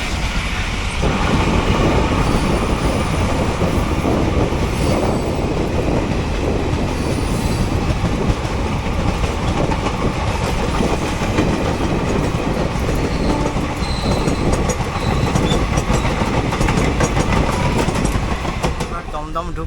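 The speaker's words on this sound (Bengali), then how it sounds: "শিয়ালদা লালগোলা 2 নম্বরে ঢুকছে" A Sealdah-Lalgola local train rolls into platform 2 at an Indian railway station, loud and close, with continuous rumbling wheels, clickety-clack over rail joints and occasional squeal, heard from a moving train with a voice faintly present.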